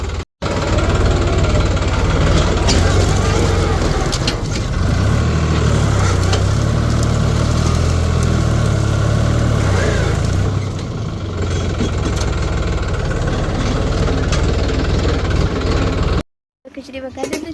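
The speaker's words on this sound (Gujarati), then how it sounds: "હવે થોડાક લાકડા ખસેડવાના છે, તો ટ્રેક્ટર વડે ખસેડીશું।" A farm tractor about to haul wood runs close by with a steady, rumbling idle that rises and falls slightly, and people talk over the engine noise.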